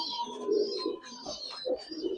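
Several Giribaz pigeons, a large-bodied breed, coo in repeated soft throaty phrases close by, overlapping one another with a faint chirp now and then.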